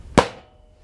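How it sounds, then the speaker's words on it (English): A single sharp, loud hammer strike lands on a riding lawn mower tire while working to break its bead, a close metallic-rubbery crack that quickly rings out into silence. "I may have to get my hammer on it."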